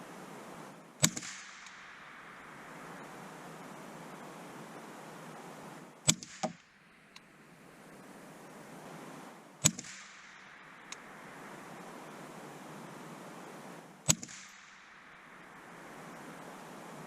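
Four sharp .22 Long Rifle shots ring out a few seconds apart at an outdoor range during an accuracy test, each a crisp crack followed by a fading tail over a soft wind background.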